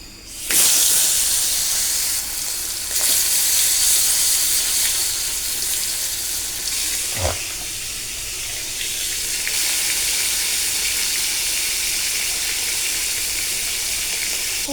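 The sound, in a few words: fish frying in a pan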